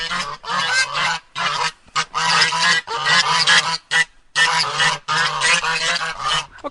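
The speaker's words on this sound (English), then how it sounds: "let's see if the geese are very hungry today" A flock of hungry geese honk loudly and repeatedly up close, in a rapid, overlapping clamor of nasal calls with brief gaps.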